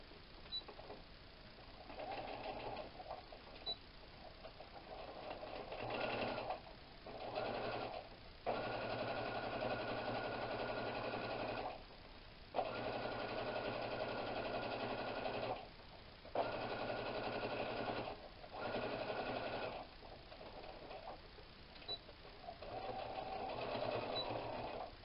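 A sewing machine top stitches a tote bag in repeated bursts of fast, even whirring, separated by short pauses, close and clear with no talking.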